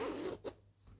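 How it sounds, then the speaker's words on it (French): A zipper on a soft, thick cotton cross-stitch bag is pulled in one short, close, quiet rasp, with a brief second zip and then quiet. "Alors, on a une fermeture éclair, hein, ici."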